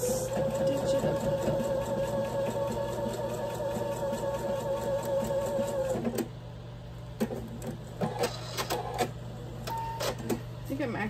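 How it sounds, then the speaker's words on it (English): A sewing machine runs steadily, stitching fabric for a quilt block, with a continuous whirring drone for about six seconds, then stops, leaving quieter clicks and handling noises. "I'm gonna stitch it up."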